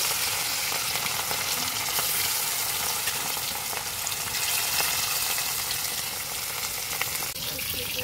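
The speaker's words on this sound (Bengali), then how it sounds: "তো মাছগুলো আমার ভাজা হয়ে গেছে, দেখো" Rohu fish pieces fry in hot oil, a dense, loud, continuous sizzle and crackle that stays steady throughout.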